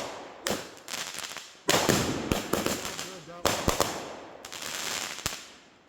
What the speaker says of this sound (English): We got a mortar going off too.